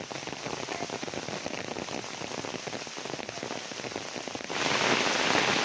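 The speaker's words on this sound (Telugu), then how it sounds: "ఇంటికి వెళ్ళేటప్పుడు కూడా వర్షం పడుతుంది" Steady rain patters densely on a surface, growing heavier and louder toward the end.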